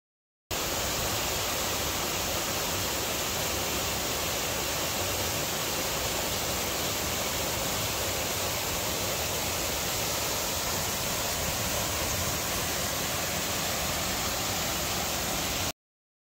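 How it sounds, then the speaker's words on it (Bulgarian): A waterfall in the Canyon of Waterfalls, heard from its upper section, gives a constant broad rushing roar that fills the whole stretch evenly, close and loud, with no speech. "Ето ни вече от горната част на водопада."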